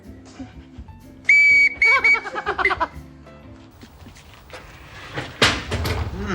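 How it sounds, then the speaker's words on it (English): A small toy whistle blows shrill, wavering toots several times, mixed with clattering knocks and a bang near the end. "Look, Des, it's even got a little whistle."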